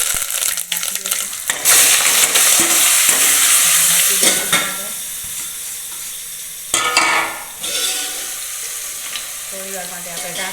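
Asafoetida and curry leaves hit hot oil already crackling with mustard seeds and cumin, giving a loud, close, steady sizzle with bursts of spattering and a few clinks of a spoon against the pan.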